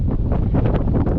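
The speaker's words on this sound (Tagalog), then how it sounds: "Lakas ng hangin." Strong wind roaring and buffeting against the microphone out on a boat at sea while fishing, a loud, continuous rumble with gusty surges.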